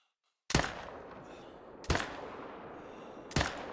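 Three loud rifle shots crack out at a fallow deer while hunting in theHunter: Call of the Wild, evenly spaced about a second and a half apart, each a sharp report followed by a rolling echo tail, with no voices.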